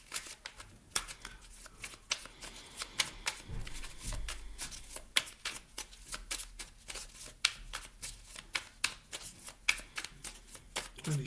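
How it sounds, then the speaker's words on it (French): A deck of oracle cards is shuffled by hand at close range, a rapid run of crisp slaps and papery flutters repeating steadily with no one talking. "Je vais vous prendre une carte du petit oracle pour s'aimer et s'accepter pleinement."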